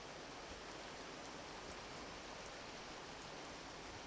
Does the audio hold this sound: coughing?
no